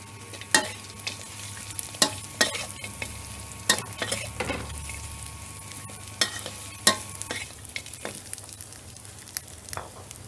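Crispy pork sizzles and crackles steadily in a hot pan for a basil stir-fry, with a utensil scraping and stirring in sharp, irregular strokes; no voices.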